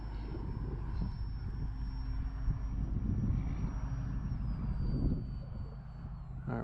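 An E-flite AT-6 Texan RC airplane comes in to land, its electric motor droning steadily with a high whine that dips as it throttles back, heard loud and close outdoors.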